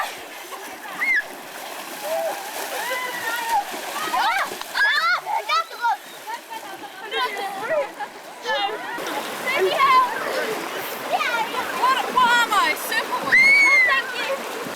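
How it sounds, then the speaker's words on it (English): Swimmers splash in a river on an overland family trip to Mongolia, with irregular bursts of water sloshing and splattering close by, while lively voices and shouts carry over the water throughout. "So now we're going swimming in the river."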